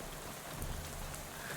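Steady rain with a faint thunder rumble in the video game Shadows Over Loathing, a dense continuous hiss of falling drops with no talking.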